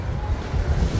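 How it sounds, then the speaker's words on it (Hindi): A gust of wind blows near the sea at Baku, Azerbaijan, a low, steady rumbling whoosh with buffeting against the microphone for about a second. "हवा का झोंका."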